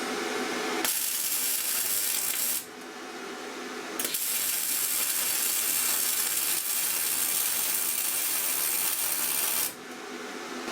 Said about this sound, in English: That welder does a nice job. Smooth. Got a real smooth arc.